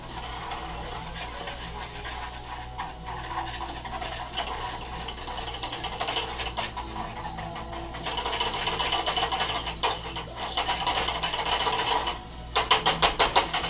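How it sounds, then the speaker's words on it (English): A whisk scrapes and clicks through flour in a pan, a steady mechanical rattling that grows busier and more rhythmic toward the end, close and fairly loud with no talking. "now I'm going to add 3 tablespoons of flour. I'm going to whisk this."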